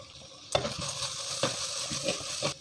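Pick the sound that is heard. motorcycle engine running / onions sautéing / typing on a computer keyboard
onions sautéing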